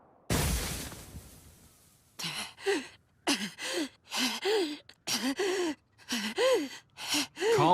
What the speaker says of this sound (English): He's hyperventilating.